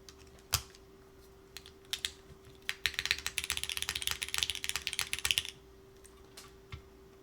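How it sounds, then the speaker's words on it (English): A custom mechanical keyboard fitted with a Cherry-style spacebar clacks in a fast burst of typing, preceded and followed by a few isolated key presses and thocks, close and crisp with no talking. "I want Donald's keyboard to sound the best ever"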